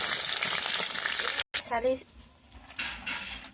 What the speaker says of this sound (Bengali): এই বড়িটা ভেজে নিচ্ছি।